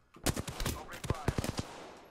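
Gunfire in the video game Apex Legends: a quick burst of rapid shots, about eight sharp cracks over roughly a second and a half, fairly close and punchy, with no voice.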